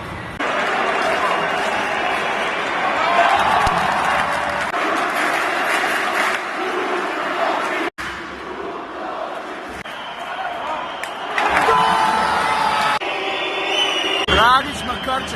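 A crowd cheering at a basketball game in Istanbul, a loud, sustained roar of chanting and applause in an arena, with people talking nearby over the noise.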